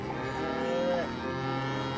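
A cow moos once in the video game Starbound, a long low drawn-out bellow sitting over a steady game background hum.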